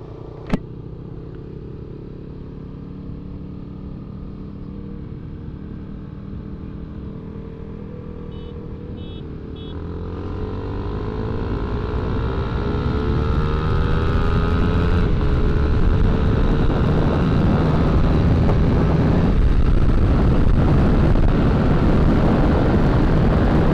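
Several motorcycles pulling away from a rolling start at a meetup, their engines rising from a steady drone into a loud, swelling roar that builds and holds as they accelerate hard together.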